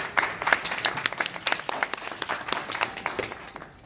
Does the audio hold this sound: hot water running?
no